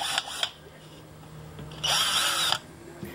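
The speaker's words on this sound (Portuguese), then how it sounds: "Então vou fazer alguns furos nessas madeiras aí com serra-copo" A power drill fitted with a hole saw bores holes in wood in short bursts: two brief whirs, then a longer, louder cut of about a second, with faint background noise between.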